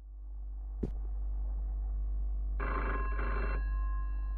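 A telephone rings in a kitchen during a game, one electronic double ring burst after a sharp click, over a steady low hum with no one speaking.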